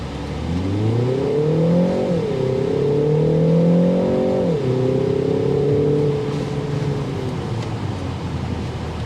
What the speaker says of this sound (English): The exhaust note does come in